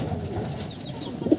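Pigeons, including Kalchira and other breeds kept for sale in Nadia, coo softly in a loft, a low murmuring throb with a slightly louder coo at the end.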